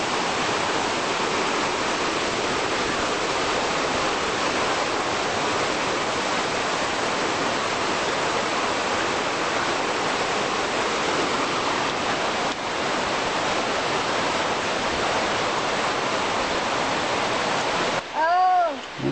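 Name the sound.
creek flowing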